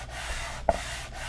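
Hand sanding of wood, rhythmic rough rubbing strokes close by, with a brief sharper scrape midway through a short burst.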